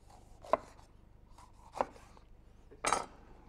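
A knife chops lemon and red pepper on a board for a garnish: three distinct, close cuts spaced about a second apart with quiet pauses between them.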